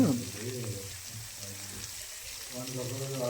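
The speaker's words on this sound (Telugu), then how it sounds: "ఆనియన్స్ గోల్డ్ కలర్లో వచ్చేంత వరకు లో ఫ్లేమ్లో ఫ్రై చేసుకోవాలి" Onions frying in hot oil over a low flame, a soft steady sizzle under a man's speech.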